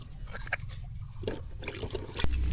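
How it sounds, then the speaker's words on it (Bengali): Fresh raw mangoes from the tree are rinsed in a basin of water for homemade aamchur powder, with soft sloshing, trickling and dripping at close range and small splashes as the fruit is handled. "জলটা পাল্টাই খুব ভালো করে ওরকম ধুই নিই"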